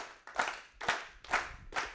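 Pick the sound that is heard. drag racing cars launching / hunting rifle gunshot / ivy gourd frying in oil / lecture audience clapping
lecture audience clapping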